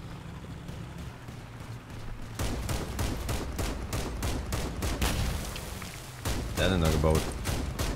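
Rapid minigun fire in the vehicle combat game Crossout, dense rattling bursts that start and stop over a low engine rumble, with someone talking over it.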